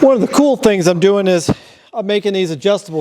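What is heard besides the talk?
None of the usual background noises is heard.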